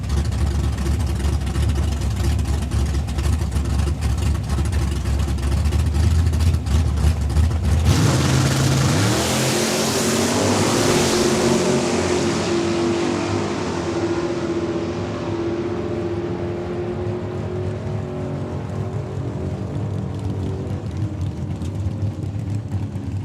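A white Ford Fairlane and a red Ford Fairlane drag racing at Saskatchewan International Raceway in Saskatoon. Loud engines rumble at the start line, then roar off together, and the sound fades slowly as they pull away down the track.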